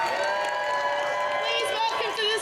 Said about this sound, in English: Okay, let's start clapping.